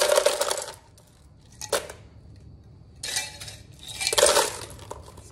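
Ice cubes tumble into a blender jar that already holds raspberries, lemon juice and sugar, giving two loud, rattling clinking bursts with a short clatter between them and quiet gaps in between, close by with no talking.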